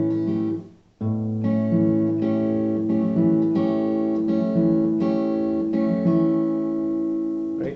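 A guitar picking pattern from a song, plucked note by note in a steady arpeggiated rhythm; close and clear, starting after a brief pause, with no talking.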